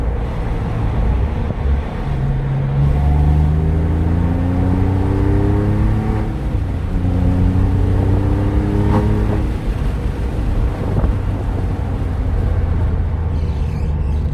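Porsche 996 Targa engine and exhaust while driving, heard through open windows as a steady close drone that rises through repeated gear pulls, with wind noise mixed in.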